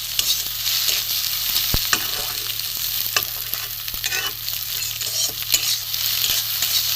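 Beaten eggs fry and are stirred with spices in a pan, a steady close sizzle with scattered scrapes and taps of a utensil and no voices.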